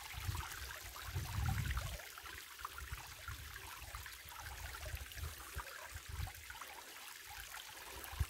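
A small stream of water trickles steadily through a dry hillside gully, a faint continuous babble with a slightly stronger low gush near the start.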